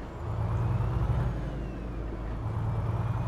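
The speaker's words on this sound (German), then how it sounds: "Und zwar ist hier der 480 PS Motor drin." A 480 hp truck engine idles and runs steadily in Euro Truck Simulator 2, a low, even drone that holds throughout with no talk.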